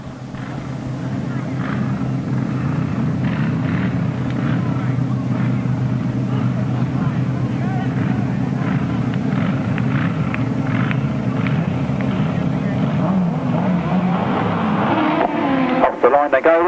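Grasstrack sidecar motorcycles with Godden V-twin engines roar off the start line at a 1993 English grasstrack race, a steady loud engine drone heard from a distance under a commentator's continuous talk.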